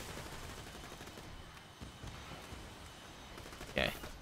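Vladov pistol fire in Borderlands 2, firing slowly, heard as a steady low rumble of gameplay noise with a sharper loud burst near the end.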